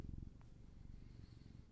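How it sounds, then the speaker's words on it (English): A pet cat purrs close by in a low, steady rumbling throb that lasts throughout, quiet, with no talk over it. "He's purring."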